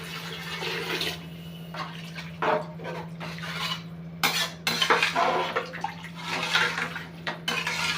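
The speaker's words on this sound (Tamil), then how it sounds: "அளவாக தண்ணியை ஊற்றிக்கோங்க" Water splashes and trickles into a cooking pot for tomato rice amid clinking of metal cookware, with a steady low hum running underneath throughout.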